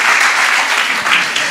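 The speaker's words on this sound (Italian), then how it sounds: "Let's give a hand to the Lord." A church congregation applauding, a dense steady wash of clapping hands filling the room for a short burst, fairly loud and with no talk over it.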